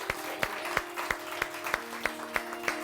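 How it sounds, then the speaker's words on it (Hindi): A studio audience applauds a guest on a morning TV show, a steady bed of clapping marked by regular sharp beats about three times a second as hands clap in unison, with a low sustained tone underneath. "सबसे पहले तो मोहम्मद अली के बहुत सारी तालियां।"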